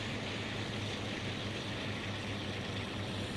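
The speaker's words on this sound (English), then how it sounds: "2 Maybach engines at full pelt is, it really is. Like I say, because they're so high revving, they almost sound like an aircraft engine." Twin Maybach diesel engines rev at full power in a train simulator game, producing a steady, dense, high-pitched roar much like an aircraft engine that holds without a break.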